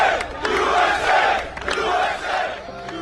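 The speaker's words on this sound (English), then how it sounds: "that was the most spontaneous natural eruption of people cheering for America" A large crowd cheering for America erupts in a sustained roar of many voices, loud and continuous with swelling waves of shouting.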